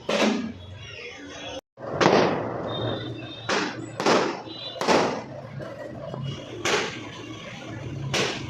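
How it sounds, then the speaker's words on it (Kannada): Firecrackers burst during Ganesh Chaturthi festivities, with sharp loud cracks going off irregularly, about eight in quick succession, near and far, over a background of voices. "ಅಲ್ಲಿನೂ ಪಟಾಕಿ ಸೌಂಡ್ ಇತ್ತು"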